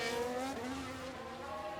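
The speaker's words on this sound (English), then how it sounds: "Sounds like someone's gone wide there." A Formula 1 car at the Bahrain circuit in the F1 Manager 2022 video game runs wide. Its engine gives a brief, fairly faint whining note that rises and shifts, with no voices over it.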